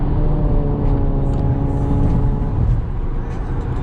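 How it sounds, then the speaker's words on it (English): Acura TL exhaust drones loudly inside the cabin with the back seat removed, a steady low rumble that stays close and constant. "with the back seat out, you can hear a lot more exhaust back there"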